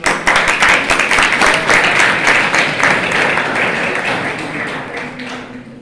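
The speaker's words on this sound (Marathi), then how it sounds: "कुणीतरी लिहिल्यावर टाळ्या वाजवले" Students clapping together in a school hall: loud, dense applause that starts strong and gradually thins and softens toward the end.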